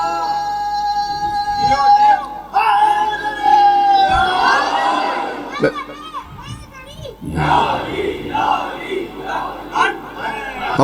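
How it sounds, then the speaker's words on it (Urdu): Crowd at a religious majlis chanting slogans, many voices shouting and cheering in surging bursts, loud and close, overlapping with a speaker's amplified voice. "میں جانتا ہوں نعرے بہت آ رہے ہیں"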